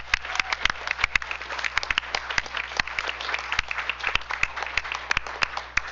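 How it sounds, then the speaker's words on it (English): Audience applause at a school district board business meeting, a steady wash of many hands clapping with sharp individual claps standing out, continuous and fairly distant, with no talk over it. "Let's give them all a round of applause."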